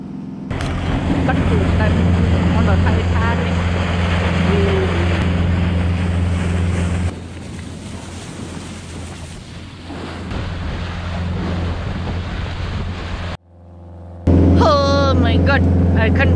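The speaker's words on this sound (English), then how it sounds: "we are rolling out on the fishing boat to go do the fishing" A fishing boat's engine drones steadily on open ocean water with heavy wind and wave noise, and voices talk over it before a brief drop-out.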